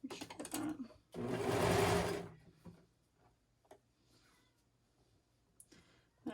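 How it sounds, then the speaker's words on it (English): A sewing machine stitches around the edge of a blanket in one loud, steady burst of about a second, then stops, leaving faint handling and clicks. "I'm just gonna sew around."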